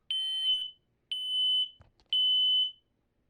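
A smoke alarm, one unit from a collection that includes a 1977 Sears detector, is being tested: three loud, piercing electronic beeps, each about half a second long, sounding at a steady one-second interval with short gaps between them.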